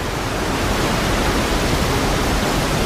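Ocean surf breaking as perfect surfing waves, heard as a dense, steady roar of crashing water that fills the space loudly and evenly, with no voices.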